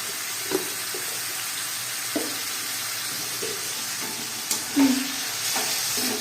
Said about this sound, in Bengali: আমি এতে একটু আদা বাটাটা দিয়ে নাড়ছি আর একটু পরিমাণ মতো নুন দেবো।